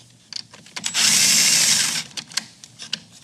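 A power socket tool whirs for about a second while loosening the negative terminal on a Chevrolet Sonic car battery, a loud close buzz set among short clicks and taps of the tool working, with no talking.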